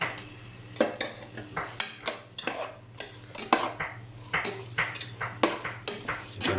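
Fresh chicken pieces tossed and stirred in a metal pot of roast korma masala, a run of sharp, irregular clanks and scrapes of a spoon against the pot, close up with a faint background hum.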